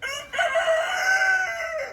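A big rooster crows in one long, loud call lasting nearly two seconds, close by and alone, with a bright sustained tone that wavers slightly before trailing off.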